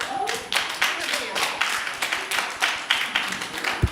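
Audience applause at a school board meeting, a steady run of close handclaps rising and falling over a room murmur, ending on a sharp thump.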